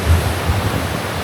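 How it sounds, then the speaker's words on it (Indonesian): Water streaming along a steep mountain hiking trail on the climb to Puncak 29 via Rahtawu in Kudus, a steady, dense rushing wash heard up close with no pauses, no voices over it. "Jalurnya campur aliran air kayak gini ya."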